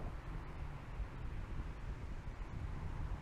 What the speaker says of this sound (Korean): 아, 바람 소리가 왜 이렇게 큰 거야?